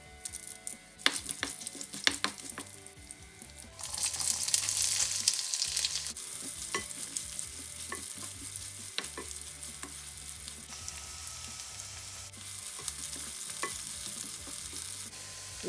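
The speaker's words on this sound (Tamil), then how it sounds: "நல்லெண்ணெய் விட்டு கடுகு, சீரகம், கடலைப்பருப்பு, சித்த மிளகாய், வெங்காயம், கறிவேப்பிலை எல்லாம் போட்டு வளமையாக தாளிக்கிற மாதிரி தாளித்து எடுக்க வேணும்" Mustard seeds, cumin, chana dal, dried chillies, onion and curry leaves crackle and sizzle in hot sesame oil, with stirring clatter and popping, the frying growing louder and steadier partway through.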